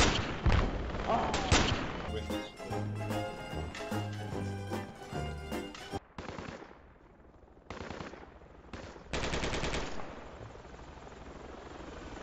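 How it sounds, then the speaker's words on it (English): Rapid machine-gun bursts and single gunshots ring out in the military shooter game Project Reality: loud, dense strings of shots with brief pauses between volleys, then a few scattered reports. "What are y'all shooting at?"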